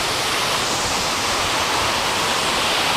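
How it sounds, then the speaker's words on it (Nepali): Man-made artificial waterfall splashing, a loud, steady roar of falling water close by with no pauses or voices. "यहाँ यो चाहिँ सक्कली होइन मानव निर्मित झरना भन्छ"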